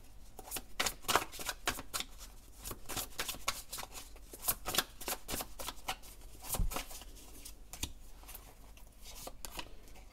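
A deck of tarot cards is shuffled up close in a quiet room: a fast, soft, continuous riffle of papery flicks and slaps at low volume, with no talk.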